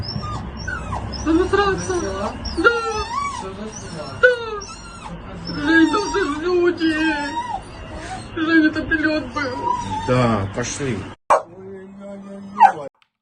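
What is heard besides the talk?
dog whimpering in the background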